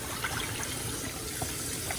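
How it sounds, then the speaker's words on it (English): Tap water runs steadily over a rinsed-out raw meat package at a kitchen sink, a continuous close splashing gush with no voices. "Rinse your package out."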